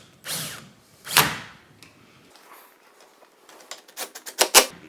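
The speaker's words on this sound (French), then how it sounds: "je prends un tournevis pour stabiliser un côté et je mets avec la perceuse de l'autre" A power drill drives screws into IKEA Poäng armchair parts in short bursts, with two strong whirs early on and a cluster of quick ratcheting clicks near the end.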